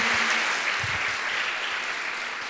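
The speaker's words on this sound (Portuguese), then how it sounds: "Aplauda novamente o nome do Senhor." Steady applause from a church congregation during a sermon fills the space, a dense wash of many hands clapping at even loudness that tapers slightly toward the end.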